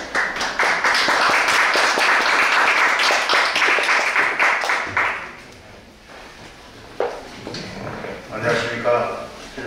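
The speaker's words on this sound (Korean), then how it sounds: "다시 한번 나오실 때 큰 박수 부탁드리겠습니다" Audience applause at a ceremony for a hearing and visual disability learning support centre, several seconds of steady clapping that tapers off, followed by a speaker's voice and some shuffling.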